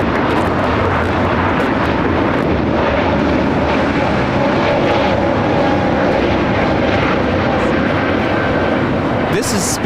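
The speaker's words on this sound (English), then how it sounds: "2520 taking off to Milwaukee on the A320neo." A Spirit Airlines Airbus A320neo takes off from LAX bound for Milwaukee, its loud, steady engine roar dominating throughout, with people talking over it.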